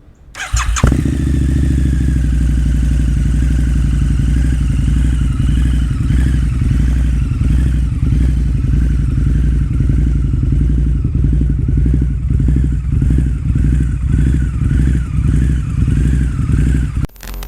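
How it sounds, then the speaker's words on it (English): A 2009 Harley-Davidson V-Rod engine cranks and fires up, then settles into a loud, steady, throbbing idle with a deep rumbling exhaust note that continues throughout. "I'll give it a start up so you can hear the exhaust note."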